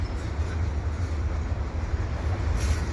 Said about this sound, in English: Yes, there is another train coming.